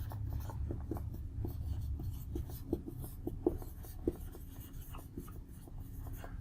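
Pen or marker writing out a chemistry equation on a board or paper, a run of quick scratchy strokes and taps in irregular rhythm, close and fairly quiet, with no speech over it.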